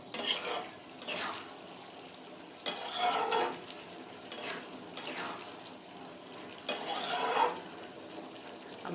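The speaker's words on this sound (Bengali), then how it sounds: "আমি মটরটা একটু কষিয়ে নেব ভালো করে।" Peas for Bengali ghugni sauté in a pan while a spoon stirs them in repeated scraping strokes over a steady low sizzle, with no talking.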